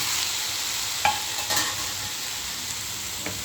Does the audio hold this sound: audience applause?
no